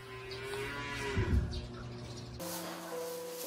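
A calf moos on a farm, a low drawn-out bovine call heard at moderate distance, with faint bird chirps and a quiet outdoor hum in the background.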